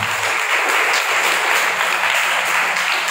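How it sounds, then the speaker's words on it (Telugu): A church congregation claps loudly and steadily together during worship, a dense wall of applause from many people, close and unbroken from start to finish. "ఒకసారి పరిశుద్ధాత్మ దేవుని మన మధ్యలోనికి గట్టిగా చప్పట్లు కొడుతూ ఆహ్వానించుదాం"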